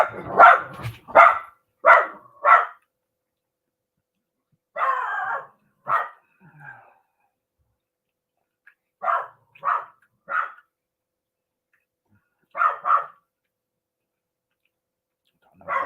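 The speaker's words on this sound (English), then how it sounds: "Don't know what's barking out." A dog barks outside in separate bursts of two to four sharp woofs, spaced by long silences, moderately loud and with no voices over it.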